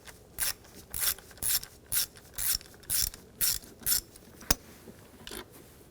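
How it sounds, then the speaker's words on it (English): A 10mm socket ratchet loosens a starter bolt on a 2007-2013 BMW X5 3.0L inline-six, producing about nine crisp, evenly spaced bursts of clicking close up, each followed by a short pause, with no voices. "Using a 10mm socket, take this bolt out."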